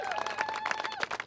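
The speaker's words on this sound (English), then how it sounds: "Let's give Darrell Steinberg a really big applause" Audience applause for a state senator at a press conference on affordable housing and climate strategy, a quick burst of dense clapping with a faint tone running underneath.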